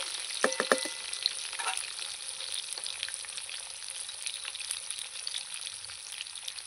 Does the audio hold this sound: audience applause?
no